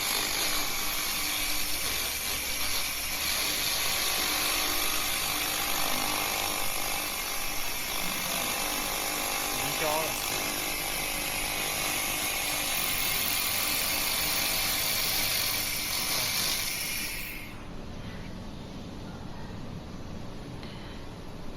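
Mini 2000 W laser cleaner with a 300 mm cleaning width running: a loud, steady high-pitched hiss and mechanical whir with a faint rattling texture, dropping off sharply near the end as it shuts down.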